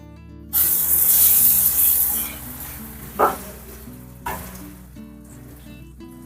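Sliced onion hits hot oil in a pan with a loud burst of sizzling that fades over about two seconds. Two brief stirring scrapes follow under a steady low simmer.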